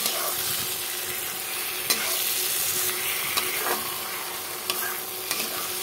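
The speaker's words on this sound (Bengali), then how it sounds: "এখন টমেটোগুলোকে দিয়ে দিলাম তেলের মধ্যে মশলার সাথে।" Tomatoes fry in oil with spices for a rohu fish, tomato and potato curry, giving a steady close sizzle with occasional light clicks of a stirring utensil; no one talks.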